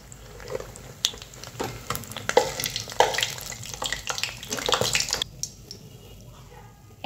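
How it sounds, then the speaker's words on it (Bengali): Mustard flower fritters fry in oil with a soft, crackling sizzle and scattered stirring clicks. The sound is fairly quiet and drops away toward the end, with faint speech nearby. "একইভাবে আমি সবগুলো বড়া ভেজে নেব।"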